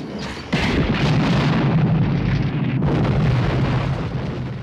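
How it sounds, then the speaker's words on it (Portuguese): Explosion in the 1988 horror film Child's Play, set off when something flammable is hit: a loud, sustained blast with rumbling, crackling debris that surges after a brief lead-in and roars on for several seconds without speech. "provavelmente por ter visto o Chuck, ele acaba acertando algo inflamável e acontece uma explosão matando ele na hora."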